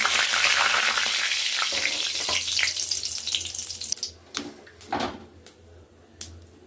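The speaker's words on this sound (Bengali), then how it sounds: "গোটা জিরে, তেজপাতা, শুকনো লঙ্কা ফোড়ন।" Whole cumin seeds, bay leaf and dried red chilies tempering in hot oil, a loud steady sizzle that gradually fades, broken by a few sharp clinks and scrapes near the end.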